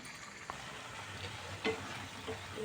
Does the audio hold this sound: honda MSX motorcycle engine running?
no